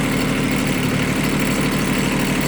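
A Kubota B6200 tractor's engine runs close and loud, a steady low idling rumble with a rapid even pulse and no speech over it.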